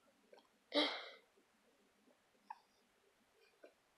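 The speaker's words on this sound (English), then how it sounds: "Mean old hiccups." A baby's hiccups: one loud, squeaky hiccup followed by two fainter ones spaced apart, close by in a quiet room.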